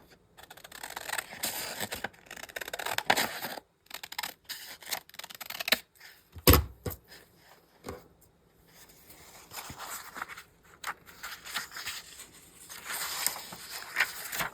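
Scissors cut a book page in half with repeated close, crisp snips and paper rustles in irregular bursts, separated by short pauses, with a louder handling clatter midway and no talking.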